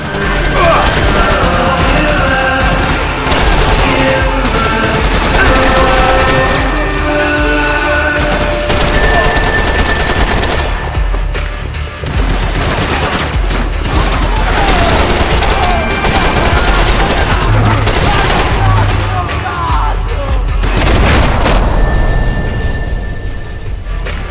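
Dense, continuous gunfire with booming grenade blasts throughout a Max Payne 3 firefight in an airport departure lounge, loud and relentless with brief lulls, a voice talking over it at times.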